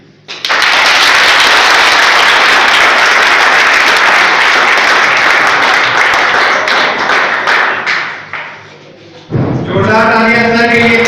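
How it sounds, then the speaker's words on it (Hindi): Loud, sustained audience applause fills a school farewell celebration hall, dense clapping that thins out near the end before a voice begins speaking over a brief pause. "जोरदार तालियां सर के लिए"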